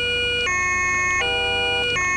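German police car siren from Farming Simulator 17, a steady two-tone wail switching pitch roughly every three-quarters of a second, loud and close with no voices over it.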